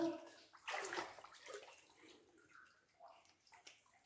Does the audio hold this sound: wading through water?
yes